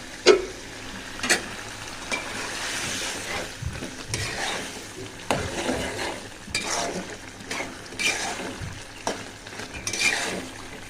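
Biryani spices being stirred and fried in a pan with a packet masala mix, a steady sizzle under repeated scraping strokes of a spoon against the metal, close and alone with no talk.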